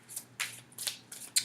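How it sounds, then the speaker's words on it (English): A deck of reading cards being shuffled in several quick riffling bursts, each a short crisp rustle close by, with brief quiet gaps between them. "I'm just waiting for the cue to stop shuffling"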